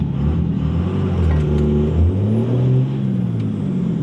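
Car with a 150 hp tune accelerating hard through the gears, engine revving up and dropping as the shifts come, loud and close with rising whine.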